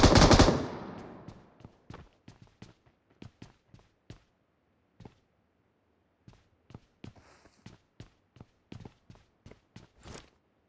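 PUBG Mobile gunfire on the Rondo map rings out as a loud opening burst followed by many sharp single shots and short bursts in irregular clusters, crisp and close, with no talking.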